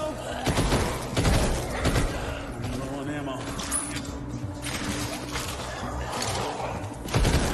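Gunfire and blasts from the VR zombie shooter Arizona Sunshine 2, with repeated loud shots and thumps mixed under excited players talking over each other in a busy, cluttered firefight.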